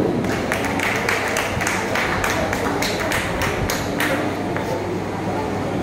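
An audience at a neighbourhood ward meeting in Rajpur Sonarpur claps steadily for several seconds. The applause is a dense, continuous patter with sharper individual claps standing out, and no one speaks over it.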